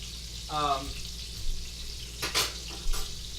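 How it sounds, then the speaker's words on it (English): Chicken frying in hot grease gives a faint, steady sizzle, with a few brief louder crackles and a short tonal sound near the start. "While it's still hot and the grease is still sizzling"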